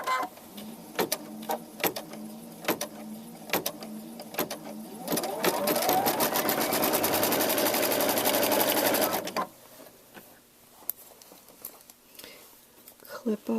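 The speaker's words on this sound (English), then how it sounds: "So now the machine is going to outline the first applique area." Embroidery machine stitching the outline of an applique area on an in-the-hoop crazy quilt block, with a steady buzzing run of several seconds between shorter start-stop bursts and clicks.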